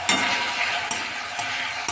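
Chili chicken with capsicum and vinegar being stirred in a hot pan, with a steady loud sizzle and four distinct scraping strokes at roughly half-second to one-second intervals.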